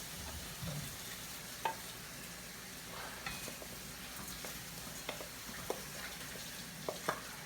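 Beans and onion cook in a pan, giving a soft, steady sizzle. Occasional sharp clinks and taps from utensils break through at irregular intervals.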